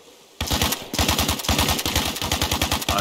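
Rapid automatic machine gun fire in Arma Reforger rattles loud and close after a short quiet start, a near-continuous burst of evenly spaced shots over the remaining seconds.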